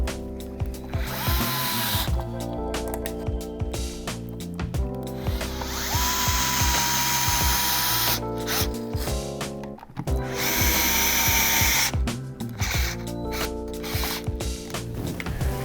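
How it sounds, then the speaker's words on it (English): Screws being driven back down to secure a dimmer switch in a wall box, a busy run of mechanical ratcheting and whirring with gear-like tool noise, steady and close throughout with a few brief pauses. "I'm just going to tighten my screws back down to secure the outlet or the switch back into the box."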